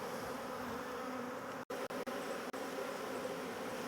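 Honey bees swarm into a hive entrance, a steady dense buzzing drone that holds throughout, broken by a few brief dropouts.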